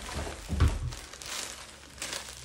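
A large plastic bag being crinkled and pulled open, close and crisp, with a couple of louder rustling bursts in quick succession and no talk.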